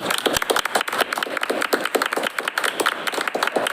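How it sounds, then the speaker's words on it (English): A room at a school committee meeting breaks into sustained, dense applause for a retiring staff member, with many hands clapping steadily and fairly close for several seconds and hardly any talk. "So a round of applause for Tim."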